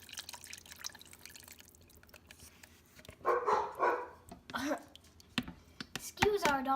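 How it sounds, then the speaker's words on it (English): In a kitchen, a couple of dogs bark in short bursts after a doorbell rings partway through, following quieter clinking and dripping sounds, with a voice heard briefly. "The doorbell rings, the dogs start barking."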